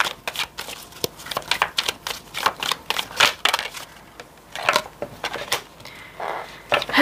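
Tarot cards are shuffled in rapid, irregular bursts of crisp papery riffling and tapping, close and fairly loud, with short pauses between runs.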